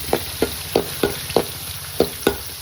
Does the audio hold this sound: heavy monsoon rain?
no